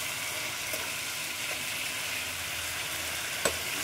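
Spicy dry chicken frying in a pan, a steady close sizzle that runs evenly throughout, with one brief clink near the end.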